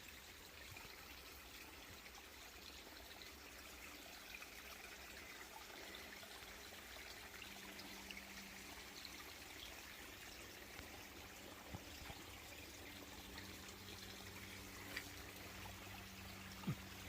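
Water running at a stream source along the Appalachian Trail between Fontana and Wright Gap, a steady, soft trickle and flow that holds on without a break, fairly faint and even, with no talking over it.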